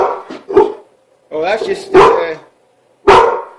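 A dog barks loudly and close by in repeated bursts, some broken and yelping, with pauses between them. A person speaks briefly over the barking.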